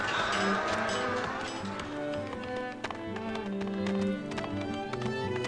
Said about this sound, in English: Let's put the cows in the barn.